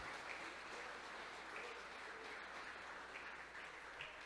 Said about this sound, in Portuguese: se você pode, aplaude a pessoa de Jesus bem forte, porque ele merece